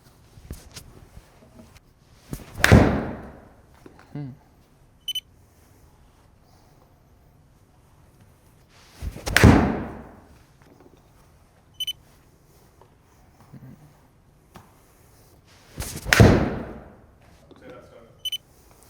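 Iron shots during a club fitting comparing PING, Wilson and Titleist irons: three sharp ball strikes spaced several seconds apart, each a loud crisp crack with a brief ringing tail, and faint background noise between swings.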